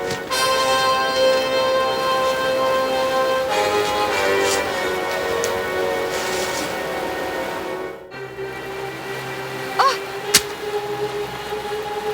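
Steady hiss of heavy rain runs throughout beneath sustained musical tones, with a brief dip near the end and a couple of sharp clicks.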